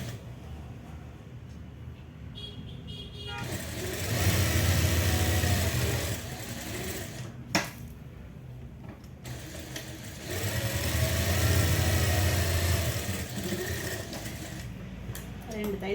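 A sewing machine runs in two distinct bursts of stitching, each lasting a few seconds with a mechanical whirr, separated by quieter pauses and a sharp click.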